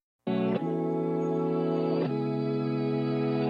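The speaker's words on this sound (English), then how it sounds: "And all we're doing is cutting out low information that we don't need." A sustained electronic chord played through a low-cut EQ filter, with a thin, bass-light tone, shifting to a new chord partway through; steady and fairly loud with no voices.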